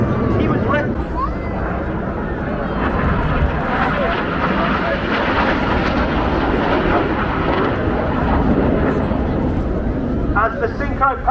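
Red Arrows jet aircraft fly past at the Blackpool Airshow 2024, a loud sustained roar that fills the whole stretch with rising and falling intensity, while a commentator speaks over it.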